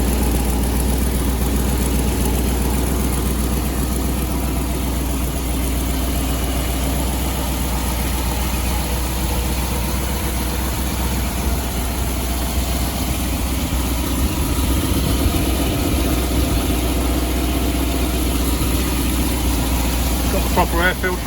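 A Land Rover 90 V8 CSW idles steadily and close by, a continuous low rumble with no change in pace, while someone talks over it now and then.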